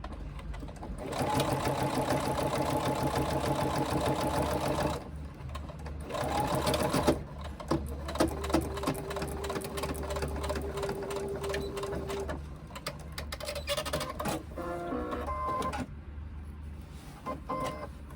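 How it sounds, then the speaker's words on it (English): A sewing machine fitted with a walking foot runs in long steady bursts while top stitching a seam allowance on a sling, pausing briefly between runs, close and continuous. "I've top stitched the seam allowance up so that that is up like that"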